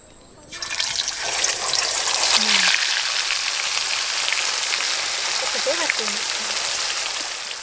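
Bhuraka fish dropped into hot oil in a pan, bursting into a loud, steady sizzle and crackle that continues throughout, with a few faint background sounds.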